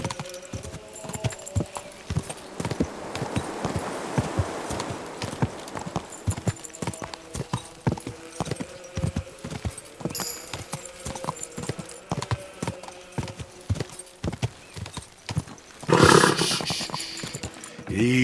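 Horse hooves in Kingdom Come Deliverance II: a steady, rhythmic clip-clop at close range throughout, with a louder, rough burst near the end.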